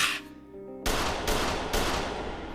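Three sharp gunshots ring out in the Bungo Stray Dogs anime, the first after a brief musical tone, the others following at roughly even intervals with lingering echoes.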